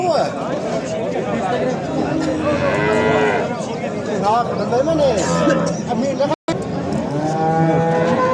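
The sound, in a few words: cows mooing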